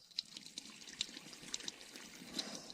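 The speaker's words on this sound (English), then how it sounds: "the water is coming with a strong flow" Water from a hose pouring strongly into a backyard pool, a soft continuous splashing trickle with small irregular splashes, fairly faint and steady.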